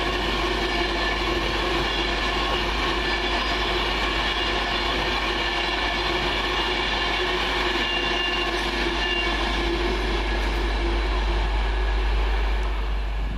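Train 1A24 from Manchester Piccadilly to London Euston passes at steady speed, a continuous rushing roar with wheel clatter that holds for the whole stretch without fading.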